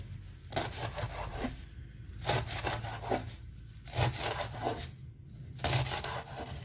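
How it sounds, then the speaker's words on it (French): Knife chopping fresh parsley on a board: rhythmic bursts of cutting strokes roughly every second or so, close and moderately loud, with no talking. "on va découper des tranches de persil frais"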